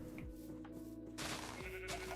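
Minecraft sheep bleat several times in wavering, nasal calls over steady background music, fairly close and clear.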